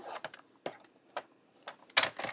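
Paper being cut for a mini gusset album makes a handful of short, crisp snipping clicks. The cuts come in sparse, quiet bursts, close by, with near silence between them.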